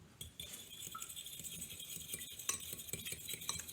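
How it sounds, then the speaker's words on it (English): A fork whisks milk in a bowl for chocolate scone batter, making a continuous rapid clinking and swishing against the bowl, close and fairly steady. "I'm going to just use a fork to whisk it up"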